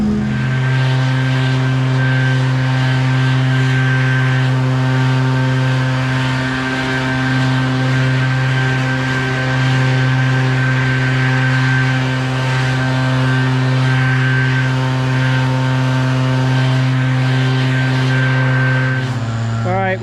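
A leaf blower runs loud and close for the whole stretch as it clears debris out of yard corners, holding a steady engine drone that dips briefly near the end, with talk over it.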